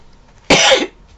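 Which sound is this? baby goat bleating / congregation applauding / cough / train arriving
cough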